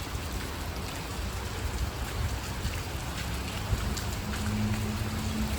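Continuous soft patter of light rain falling on surfaces, a steady wash of noise with a faint low hum appearing near the end.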